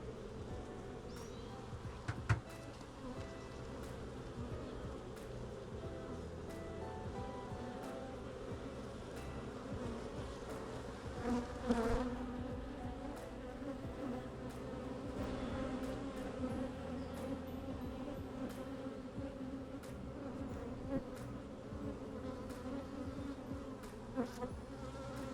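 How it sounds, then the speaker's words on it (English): A swarm of bees drones in a steady, dense buzz around a shrine, continuing unbroken for the whole stretch, with individual insects zipping close now and then. "A lot of bees."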